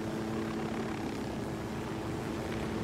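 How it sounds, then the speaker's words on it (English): Helicopter in the video game Ghost Recon Wildlands, a steady, fairly loud rotor and engine drone that holds constant throughout with no talk over it. "Let's park the chopper here."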